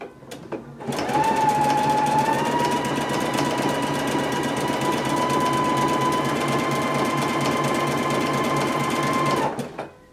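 Husqvarna Viking Epic 980Q sewing machine stitches in reverse on a buttonhole, a rapid steady mechanical hum with fine rhythmic needle ticking lasting about eight seconds, close and alone, starting and stopping cleanly.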